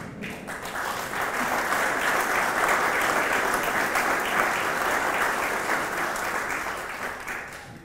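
An audience at a meeting of the Armenian community in Abu Dhabi breaks into sustained applause, a dense, steady clapping that swells and holds for several seconds before tapering slightly.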